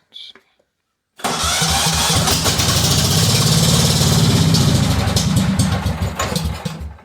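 A Cub Cadet 2166 lawn tractor with a faulty muffler cranks and fires up after a short pause, then runs loud and rough with a sputtering, popping exhaust, close by, while someone speaks briefly before it starts.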